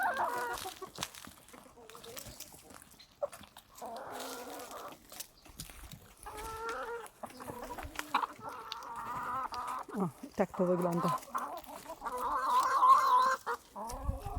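Hens clucking in short bursts close by, a busy flock of older hens and white broilers chattering continuously while feeding, with a brief spoken remark partway through.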